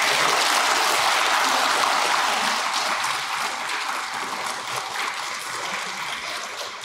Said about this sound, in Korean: 두 분 큰 박수를 모시겠습니다.